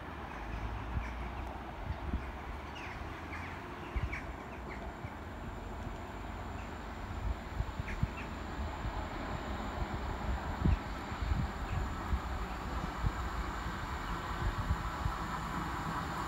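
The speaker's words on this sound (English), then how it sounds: "Arriving in now is the 1507 Great Western Railway service to Bristol Temple Meads" Great Western Railway class 150 diesel trains arrive at Redruth station in a faint, distant rumble with scattered clicks and knocks of wheels over track, steady and low throughout with no talking.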